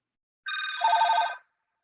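A telephone rings during a talk at a volunteer appreciation event, giving one short burst of electronic ringing with steady harmonic tones, moderately loud and heard alone.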